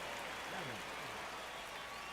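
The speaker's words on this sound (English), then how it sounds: "this Tampa Bay crowd, they are excited." A baseball crowd at a Tampa Bay game applauds in a steady, diffuse wash of clapping that fills the stadium at moderate volume, with a faint voice underneath.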